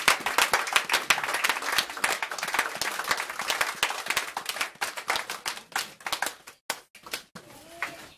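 A church congregation claps loudly to acclaim Christ, a dense crowd clapping that thins out into scattered, uneven claps and short pauses toward the end.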